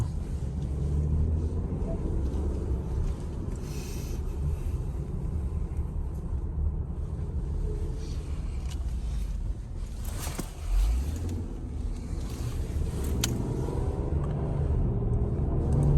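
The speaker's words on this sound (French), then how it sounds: "L'accélération est un peu franche sur ce genre de véhicule." A 2021 Ford Explorer accelerating: a steady low engine and road rumble heard from inside the cabin, fairly quiet and sustained, with someone speaking over it.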